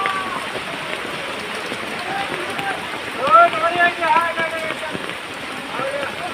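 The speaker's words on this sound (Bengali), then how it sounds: "এই যে দেখেন কীভাবে বৃষ্টি পড়তেছে।" Heavy rain pours onto a flooded street at Farmgate, a dense, continuous hiss of drops hitting standing water, with splashing passes and someone talking nearby partway through.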